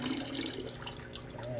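Water dumped out of a Pentair Big Blue pool filter housing, a brief continuous splashing pour that runs steadily, close and fairly loud, with no talk.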